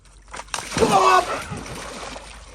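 A person jumps into cold water outdoors in a wild jungle setting, making one loud, close splash with a burst of sloshing and spray that trails off, while people shout and talk around it.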